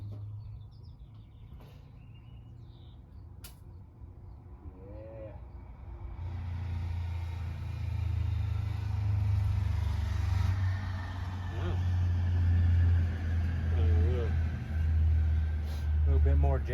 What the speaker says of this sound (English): A little bit more Jake brake action for y'all.